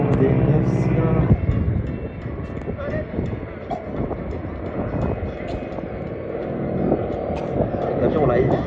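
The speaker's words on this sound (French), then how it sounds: "Ce son particulièrement là, c'est le ronronnement des 9 cylindres." A nine-cylinder radial engine on a T-6 Texan/Harvard trainer drones steadily at an airshow, a loud continuous rumble with a sharp change in tone early on, then holding throughout.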